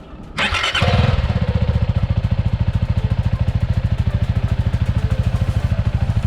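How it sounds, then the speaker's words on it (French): A CF Moto 250 SR's liquid-cooled 250 cc single-cylinder engine starts and settles into a steady, even idle with a rapid regular thump through its discreet exhaust, close and fairly loud. "Une fois le moteur allumé, il se fait relativement entendre à travers un discret échappement"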